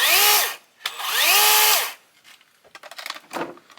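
A DeWalt battery chainsaw whines up in two short bursts outdoors while trees are being cleared, each rising and falling in pitch, followed by quieter clatter and handling noise.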